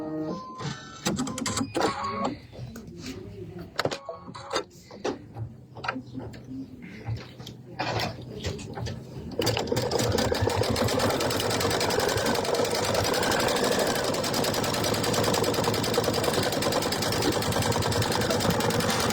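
A home embroidery machine sews a placement stitch on light pink material, its rapid mechanical needle clatter running steadily and loudly after a few seconds of quieter start-stop tapping and handling at the beginning.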